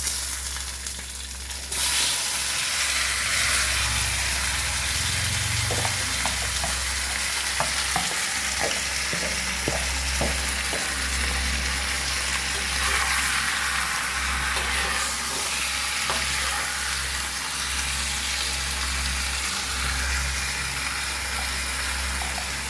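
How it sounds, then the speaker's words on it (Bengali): Marinated chicken goes into hot oil spiced with bay leaf, green cardamom, cloves and cinnamon, setting off a loud, continuous sizzle and hiss. Stirring clinks and scrapes are heard close by, and nobody talks. "ফোড়নটা হয়ে গেলে এবার ম্যারিনেট করা চিকেনটা দিয়ে দেবো।"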